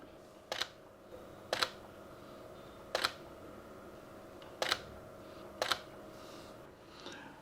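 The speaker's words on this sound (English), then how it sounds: "I'm taking pictures at 70 millimeter and continuously shifting the camera position back and forth for focusing." Sony camera shutter firing during macro shooting at 70 mm: five sharp, faint mechanical clicks at irregular intervals about a second apart, close by in an otherwise quiet setting.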